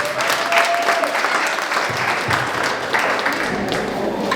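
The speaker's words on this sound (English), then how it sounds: "Let's give her a round of applause." An audience of parents at a school book fair applauds, a full, continuous patter of many hands clapping for a few seconds with no speech over it.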